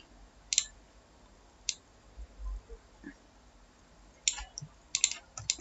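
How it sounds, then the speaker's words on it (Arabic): A computer mouse clicked on a desk while working in the Unity game engine, giving a few sharp, quiet clicks that come in quick pairs, close by, with no talk. "اعمل دبل كليك مثلا اهو كده"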